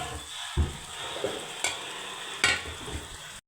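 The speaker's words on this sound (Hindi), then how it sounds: "मैंने डाली भिंडी मसाले में" Okra tipped into a hot spice masala sizzles steadily, with a few soft thuds and stirring knocks as the pieces land and settle in the pan; no one speaks.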